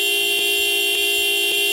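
A car horn stuck on and blaring at a traffic light, holding a steady, sustained tone with a few faint bumps in it, loud and close with no talking.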